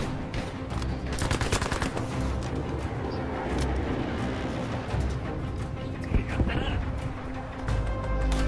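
Battlefield V multiplayer gunfire from an Operations match, including a max-upgraded MP40: rapid bursts of automatic shots crackle steadily throughout, some close and sharp, others distant, layered over constant battle rumble.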